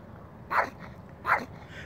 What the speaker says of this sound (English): he has a problem with growling, lunging, and barking, as you see here, little terrier